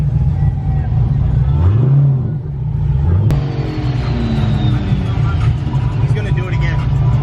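A Corvette engine revs hard and loud at a truck meet, rising and falling in strong sweeps, then cuts sharply into a harsh burst, with crowd voices and other engines around it.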